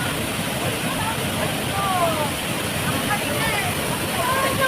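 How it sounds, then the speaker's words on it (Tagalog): Waterfall at a scenic falls, heard as a steady, loud broadband rush of falling water that fills the whole clip, with faint high bird-like chirps over it. "Dito na yung falls na maganda."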